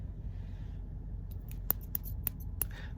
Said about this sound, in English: I'm using the scissors that I have to disrupt the